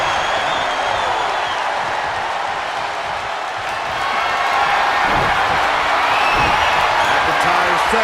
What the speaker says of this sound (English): this crowd is on their feet in full appreciation